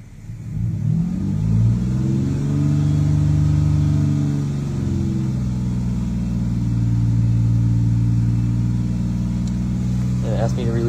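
A car engine revs up and is held steadily at 2,000 to 3,000 RPM during a diagnostic test, a sustained loud hum with a brief rise in pitch early on, heard close up.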